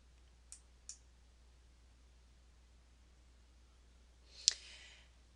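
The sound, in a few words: computer mouse clicking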